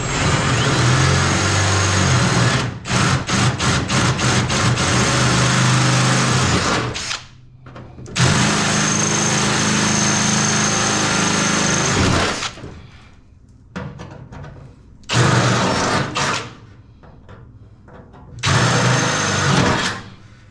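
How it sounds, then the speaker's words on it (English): Power drill boring a hole for a nut rivet in the body of a 1935 Oldsmobile hot rod, several loud whining bursts of a few seconds each separated by pauses, with short rattling clicks between runs. "now we'll drill that out and put the nut rivet in"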